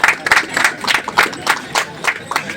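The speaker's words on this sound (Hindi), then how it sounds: "मैम के लिए जोरदार तालियां होनी चाहिए" Rhythmic clapping from a small crowd greeting a participant at the Rangat Monsoon Marathon in the rain, about a dozen sharp claps in a steady beat, close and lively.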